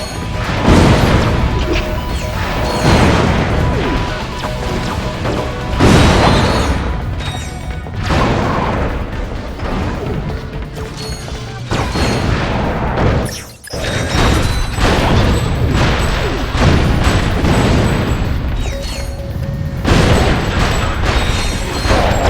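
Loud, dense explosions and crashing blasts from the PS2 action game Ratchet: Deadlocked pound almost continuously, with heavy booms, gunfire-like bursts and a short quiet gap midway.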